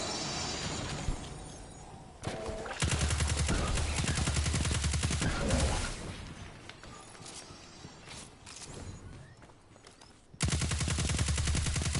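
Sustained assault rifle fire in Destiny 2, loud dense bursts that drop out briefly and resume, with a heavy burst returning near the end.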